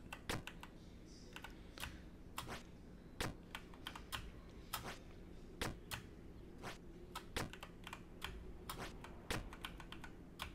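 Keys clack on a computer keyboard during a Jump King session, with sharp, irregular presses scattered through a quiet room and no talk.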